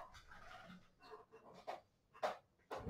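A small dog pants and snuffles close by with faint scrabbling sounds, quiet and intermittent with short bursts of noise and no talking.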